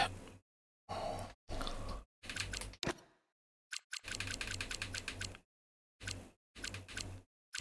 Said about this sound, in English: I think Rob's typing the game in